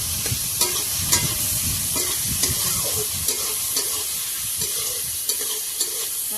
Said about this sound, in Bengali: হালকা করে ভেজে নিই